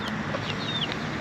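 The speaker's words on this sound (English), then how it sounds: "Here comes the other hen." A hen clucks softly at a beachside spot in Puerto Rico, a few faint, close clucks over steady background noise.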